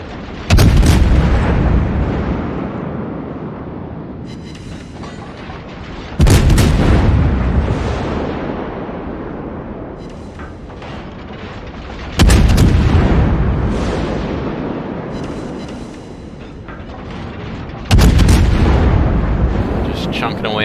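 Battleship main-gun salvos in a naval warship video game clan battle, four loud booming volleys roughly six seconds apart, each a sharp blast decaying into a long rumbling tail.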